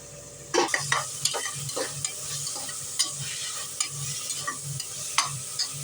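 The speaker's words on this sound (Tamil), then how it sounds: "நல்லா வதங்கட்டும். தக்காளி கொஞ்சம் வதங்க" Tomatoes sauté in a pan for a bitter gourd kootu, a spatula scraping and tapping in a rough, repeated rhythm over a constant sizzle, close and fairly loud, with no talking.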